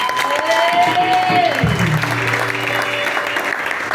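A church congregation cheers and applauds in a sustained, dense wash of clapping, with voices calling out through the crowd noise.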